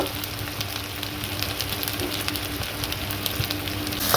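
A spice paste of ginger-garlic paste, chili powder and coriander-cumin powder fries with onions for chicken biryani, producing a dense, steady sizzle with faint stirring crackles, close and unbroken for the whole stretch.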